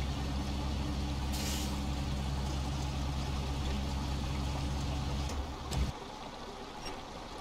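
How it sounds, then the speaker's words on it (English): A truck idles loudly in the SnowRunner game, its steady engine drone carrying a brief air hiss before a clunk as the trailer drops onto the fifth wheel, after which the engine tone drops lower. "we'll just drop you down onto that fifth wheel."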